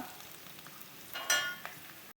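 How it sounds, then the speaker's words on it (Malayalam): Onion, curry leaves and half a carrot sauté in a pan for a Kerala-style green peas and egg scramble, giving a quiet, steady sizzle with a brief louder crackle as the pan is stirred. "ഒരു സവോള കറിവേപ്പില ഒരു പകുതി ക്യാരറ്റ് അതൊന്ന് മൂപ്പിച്ചെടുക്കുക"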